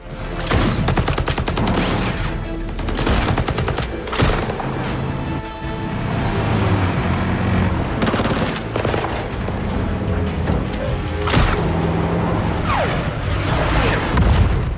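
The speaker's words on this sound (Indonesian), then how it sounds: "Lagi-lagi adu tembak pun tak terhindarkan." A film shootout fills the scene with dense, continuous gunfire. Volleys of shots crack and boom loudly over rumbling action sounds with no let-up.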